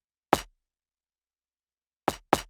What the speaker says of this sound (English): I'm using one top kick